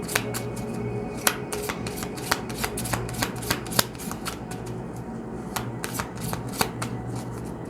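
Witch tarot cards shuffled by hand in a steady stream of crisp riffles and taps, close and fairly quiet, with no speech over them.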